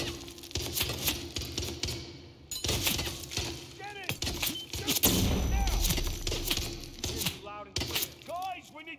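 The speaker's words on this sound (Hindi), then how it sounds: "दूर से क्या फायर कर रहा है?" Gunfire and clattering impacts in Hitman 3, hard cracks and thuds scattered through the scene, with someone talking excitedly over the shooting and in-game voices in between.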